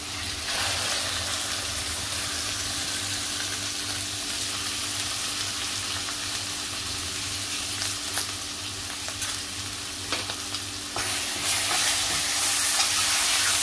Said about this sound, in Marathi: चांगलं मिक्स करायचं आहे मसाला आणि वाटण.